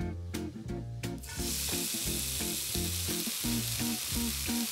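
Garlic sizzling in a hot pan after onions, a bright continuous frying hiss rising after a second and holding steady under a repeating musical backing.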